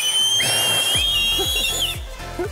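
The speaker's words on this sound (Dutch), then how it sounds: "hoe fluit jij?" A person whistles a steady high tone, with tones sliding up and down, followed by a few short chirped whistles.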